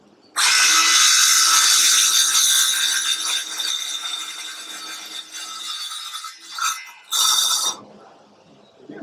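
A power tool saws slowly through a wooden dowel with its guard set, a loud continuous rasping cut that wavers and eases off near the end, then a short final burst as the cut finishes.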